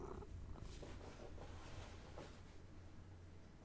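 A pet cat named Kitty purring steadily and close, a low continuous rumble lasting throughout with no talking over it.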